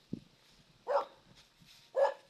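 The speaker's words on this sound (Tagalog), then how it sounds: "Ang ingay ng aso" A dog gives two distinct barks about a second apart, fairly faint and a little distant, against a quiet background.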